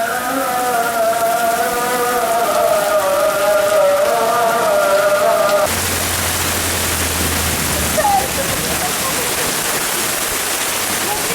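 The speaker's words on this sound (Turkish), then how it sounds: "Dışarıda yağmur yağıyor." Steady, dense rain hisses continuously, with a tonal hum fading out partway through and a brief knock near the end.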